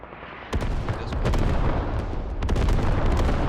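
Artillery and gunfire in the tactical shooter Squad: a sudden boom, then dense rolling barrages of explosions and overlapping rifle fire, loud and sustained.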